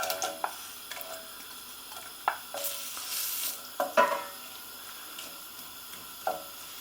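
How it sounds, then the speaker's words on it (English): Onions tossed into a generous pour of olive oil in a hot pan give a soft steady sizzle, broken by several sharp clatters and stirring knocks, fairly close and with no talk. "Good amount of olive oil, a good few tablespoons. Let's throw our onions in first."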